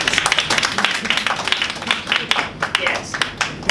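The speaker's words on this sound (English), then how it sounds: "Please give her a round of applause." An audience at a Toastmasters speech evaluation session breaks into applause for a speaker, a dense, loud wash of many hands clapping throughout with some voices mixed in.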